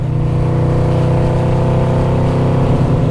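A Yamaha VMAX motorcycle engine drones steadily and loudly while being ridden, a close, constant low rumble with wind noise and no talk.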